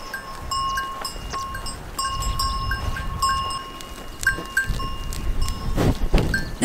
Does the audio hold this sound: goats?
yes